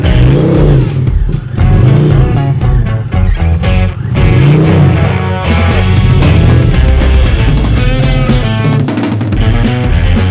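An Indian motorcycle fitted with a Power Commander tuner revs hard on a ride, its engine note rising and falling in repeated throttle sweeps, loud and close throughout with wind rush.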